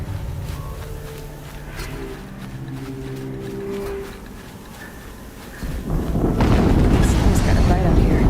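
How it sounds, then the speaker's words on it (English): A loud explosion erupts in the action game Horizon Zero Dawn, a sudden booming blast followed by sustained roaring rumble after a stretch of quieter tonal game sound. "Another explosion."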